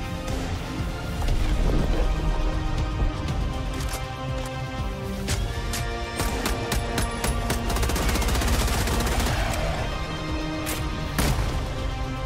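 Rapid gunfire from a weapon in the video game Helldivers 2, with dense bursts of loud close shots and clattering impacts over a continuous roar of game noise, and no talking.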